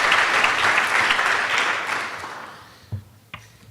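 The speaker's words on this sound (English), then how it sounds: "We can applaud that." Applause from a crowd, steady and fairly loud, fading out toward the end with a couple of last claps.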